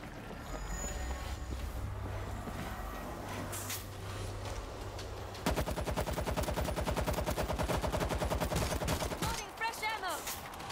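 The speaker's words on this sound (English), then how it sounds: "Auto turret set." Automatic turret in World War Z Aftermath opens up with rapid, steady machine-gun bursts over a rumbling game soundscape, the fast rattle dense and loud for several seconds before breaking off.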